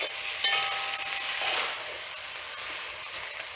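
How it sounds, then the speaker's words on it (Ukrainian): Onion frying with meat in a pan, a bright steady sizzle with light stirring scrapes, close up, easing slightly toward the end, no talk. "додаю цибульку. Теж обсмажу до легкої золотистості."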